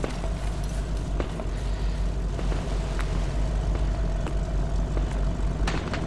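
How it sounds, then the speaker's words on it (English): A helicopter in the military video game Arma 3: a continuous droning engine and rotor hum holds steady at moderate loudness, with occasional sharp clicks and knocks over it. "Wait, there's a helicopter."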